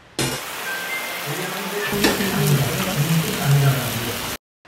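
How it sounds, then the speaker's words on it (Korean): Pork duruchigi sizzles steadily on a hot pan at an all-you-can-eat restaurant, with a dense crackling hiss that builds as lean meat is laid down, a sharp clack partway through. "욕심내어 살코기를 집어 집어 팬에 올려놓습니다"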